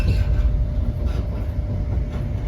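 Close, loud rumble of a train arriving at Montrose station, Scotland, rolling along the rails with a low steady roar and faint rattling, no voices.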